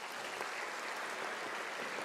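An audience at a University of South Africa graduation ceremony claps in a steady, even wash of applause that stays fairly quiet and unbroken throughout the short stretch.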